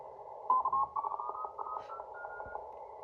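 A steady tuning tone rings from a small QRP CW-only ham transceiver over hissy band noise, with faint crackle and a brief burst of static partway through, quiet and close.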